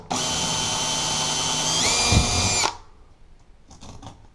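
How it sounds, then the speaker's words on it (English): A power drill bores through the socket hole of a closet rod pole bracket into a wall, a loud steady whine for about two and a half seconds, rising in pitch near the end, then stopping abruptly. Faint clatter follows. "then we can just drill right through the hole here."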